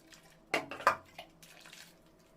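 Rice is tipped into a pot of hot water on a home stove, making two quick soft splashes and a brief trickle, faint and close in an otherwise quiet kitchen.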